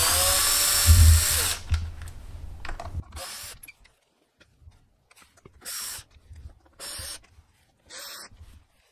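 A screw gun fitted with a 2.5 mm Allen bit backs screws out of the top of a Sur-Ron electric bike battery, giving a loud opening whir followed by several short, separate bursts of spinning with quiet gaps between them.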